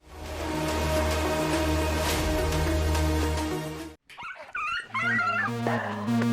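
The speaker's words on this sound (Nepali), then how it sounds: "किन लखडा तिमीहरूले कुकुरलाई?" A dog yelps and whimpers in sharp, rising cries close by, after several seconds of loud music; the cries come in short broken bursts during a television drama scene.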